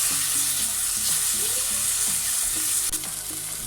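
Cauliflower and green peas fry and sizzle steadily in a pan with coriander added, while a utensil scrapes and stirs through them in close, continuous bursts with no voices.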